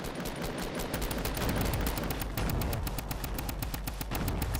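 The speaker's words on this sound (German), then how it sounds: "wo kommen die Sniper-Schüsse her?" Rapid sniper fire crackles in a Fortnite Battle Royale match on Nintendo Switch, with dozens of sharp shots coming in quick, uneven bursts at moderate loudness and no voices.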